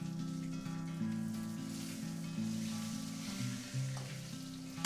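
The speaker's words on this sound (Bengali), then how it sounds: "বেগুনটা একটু ভেজে নেব" Eggplant pieces frying in hot oil with cumin seeds tempered in, after fish was fried in the same pan for a Bengali curry; a steady, close sizzle runs throughout with no talking.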